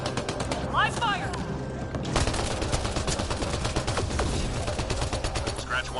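Sustained rapid gunfire in a PS4 shooter, dense crackling bursts that carry on without a break and grow busier after the first two seconds, with voices in the game over the shooting.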